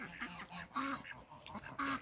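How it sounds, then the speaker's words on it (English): Farm ducks kept for eating quack in short repeated bursts, fairly close and moderately loud, a few calls in quick succession. "I have all these ducks for eating."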